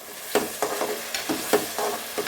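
Vegetables frying in a pan for veg pulao, stirred with a spoon in a quick series of scraping strokes over a soft continuous sizzle, close and with no talking.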